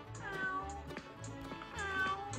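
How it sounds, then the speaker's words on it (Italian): A cat in the video game Toca World meows two or three times, close and clear, each meow drawn out over a faint musical background with no talking. "Fa miau."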